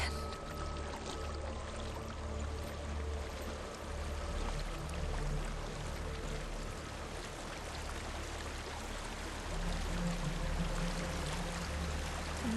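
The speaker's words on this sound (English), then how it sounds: "There's a waterfall." A waterfall and flowing river in the video game Hellblade: Senua's Sacrifice make a steady, rushing wash of water at moderate distance, unbroken for the whole stretch with no voices.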